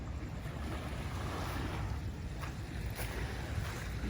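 Night sea waves on a beach in Pattaya, Thailand, rolling in as a steady, dense wash of surf with wind buffeting the microphone, no voices.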